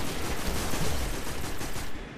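A new green weapon fires in the video game Destiny, a dense, continuous burst of loud rapid gunfire that fills the whole stretch before easing off at the very end; nobody talks.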